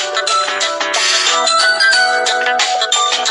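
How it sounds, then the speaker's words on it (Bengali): A custom phone ringtone built from a song with a person's name added plays loud and close, a bright melodic tune in repeating short phrases. "আজকের যে রিংটোনটি শুনলেন"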